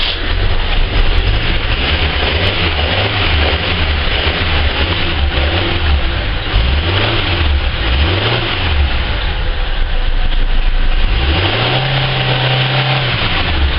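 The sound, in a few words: Holden VS Commodore engine running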